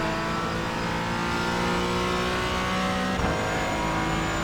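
A Porsche Cayman GT4 engine drones on at Sonoma in iRacing, loud and continuous from onboard as the car holds revs through a lap, with a brief shift-like dip near the end and no voices.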